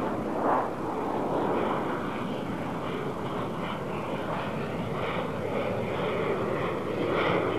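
A steady, roaring Saab Viggen jet engine drones throughout during a display flight, broadband and continuous with a faint high whine, fairly close and constant in loudness.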